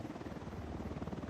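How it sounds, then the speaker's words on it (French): A steady, droning missile helicopter rotor hum from the video game Ghost Recon Wildlands, with a rapid low pulsing thrum, loud and continuous with no talk. "c'est un hélicoptère à missile."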